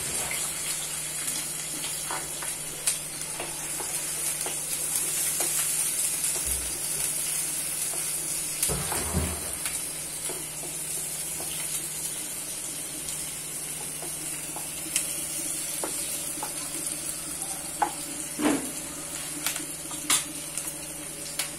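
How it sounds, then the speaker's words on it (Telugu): Onions and a green chili fry in a pan for a chicken fry, making a long, steady low sizzle with occasional faint stirring taps and clicks. No one talks. "రెండు నిమిషాలు అయిందని ఉల్లిపాయలు వేగినవి"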